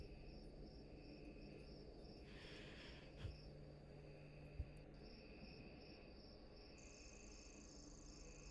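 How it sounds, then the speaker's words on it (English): Crickets chirp in a looping ambient background track from the video game Tokyo Dark, a soft, steady, high-pitched trill repeating evenly with a faint click or two and no talking. "The looping crickets actually bothers me."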